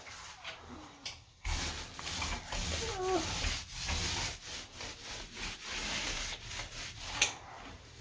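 RedGuard waterproofing is worked onto a shower wall during a bathroom remodel, making close, repeated rubbing and scraping strokes in an uneven rhythm, with no talk.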